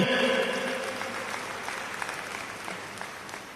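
Audience applause at a public meeting in Thrissur, a dense, steady wash of clapping from a large crowd that gradually thins and fades across a few seconds, with no voices over it.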